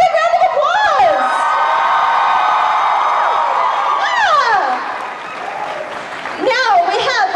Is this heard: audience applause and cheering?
yes